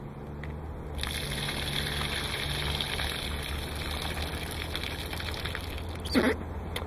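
Water drains out of a plastic water lens used as a solar collector, a steady gushing, trickling flow heard close and alone, with a brief splash near the end.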